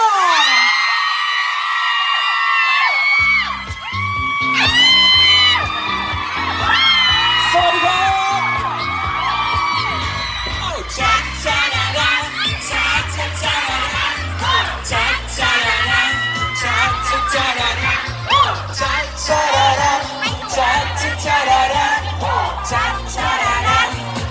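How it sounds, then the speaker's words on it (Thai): A loud crowd at a Chinese New Year 2019 celebration at Central Plaza Chonburi, Thailand, screams and cheers continuously to welcome a performer, high-pitched shrieks and whoops piling up, with music or a thumping beat joining partway through. "ขอเสียงกรี๊ดดัง ๆ ต้อนรับ"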